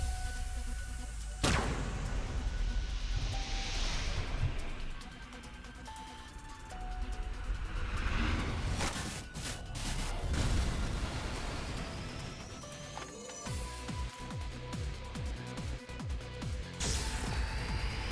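Scattershot weapon fire in the video game AI: The Somnium Files – nirvanA Initiative, booming blasts and bursts over layered game music and effects, loud and dense throughout.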